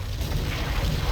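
Artillery fires in the Panzer Corps strategy game as one loud, dense boom with a rumbling low end, lasting just over a second with no talk.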